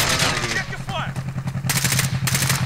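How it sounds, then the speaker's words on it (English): Gunfire in Call of Duty Warzone, with two harsh bursts of rapid automatic shots near the end over a steady engine-like drone, loud and close, while a voice talks underneath. "I'm shooting you in the leg, you're dead."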